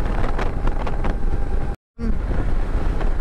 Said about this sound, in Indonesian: anginnya kenceng banget ini